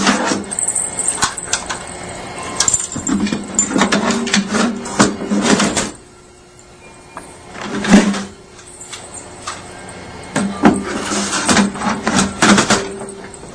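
Plates being turned around on a DE8 folding machine: clustered metallic clicks, clacks and sliding rattles in irregular bursts, with a short quiet pause midway before more handling clatter, recorded up close.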